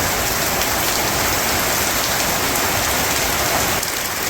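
Heavy rain in a storm pours down in a loud, dense, unbroken roar, drumming steadily on surfaces nearby in a village, with no voices.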